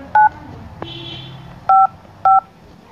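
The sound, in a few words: phone keypad DTMF tones entering account number digits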